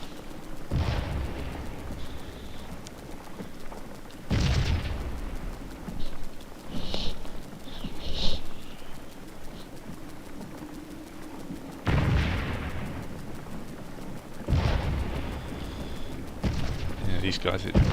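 Booming cannon and artillery volleys in the Scourge of War battle game at McPherson's Ridge, several loud blasts spaced seconds apart with lighter crackles between, while someone talks over them.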